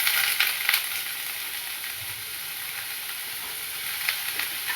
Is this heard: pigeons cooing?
no